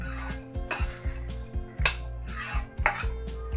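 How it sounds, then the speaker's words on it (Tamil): Mappillai samba rice aval kesari with ghee is stirred in a pan over a low flame, the spoon scraping the metal in quick, rhythmic strokes up close with no voices. "இதை நல்லா கிளறி விடலாம்."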